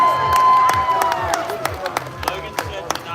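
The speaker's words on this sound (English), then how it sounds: "How about some applause for my sponsor" A crowd claps and cheers at a barbecue eating championship, with scattered whoops and sharp individual claps rising above a steady roar of applause that gradually thins out.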